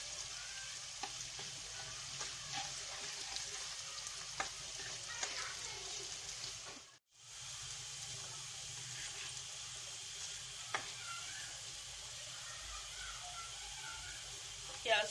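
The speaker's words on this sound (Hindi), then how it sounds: "ये एक प्याज ली थी मैंने छोटी, इसको मैं गोल्डन ब्राउन करूंगी तेल के अंदर।" A small onion fries in under half a cup of oil in a home kitchen until golden brown, giving a steady sizzling hiss throughout, with occasional stirring clicks and a brief pause midway.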